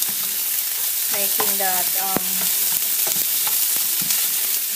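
Onions sauté in oil under a loud, even sizzle, broken by clinks and scrapes of stirring, while someone speaks a few words over it.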